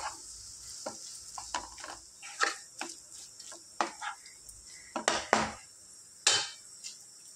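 A spoon scrapes and clinks through tomato curry in a pan as two spoons of chili powder are stirred in, with a faint sizzle underneath and irregular clatters that sometimes grow louder.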